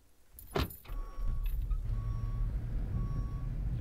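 A tractor or farm vehicle in Farmer's Dynasty starts up and pulls away, with a short whoosh, then a steady low engine rumble and a repeating warning beep.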